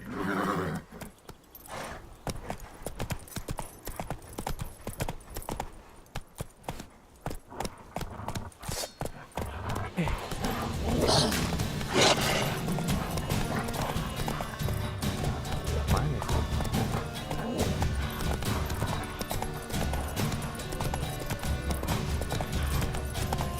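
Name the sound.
horse galloping in the video game The Witcher 3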